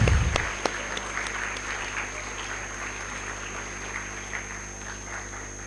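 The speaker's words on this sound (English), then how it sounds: "Can we have a huge round of applause for the Indian Air Force?" An auditorium audience applauds for the Indian Air Force at a stage event with sustained, moderate clapping patter that sits over a steady electrical hum and holds evenly to the end.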